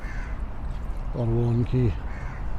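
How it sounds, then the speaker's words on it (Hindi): Crows caw loudly in a quick burst of harsh calls, two close together, near a floodlit area where cows are kept along a route from Noida to Ajmeri Gate; someone speaks briefly around them. "अगर आपको थोड़ा शोर कौवों का, पक्षियों का भी सुनाई दे रहा हो"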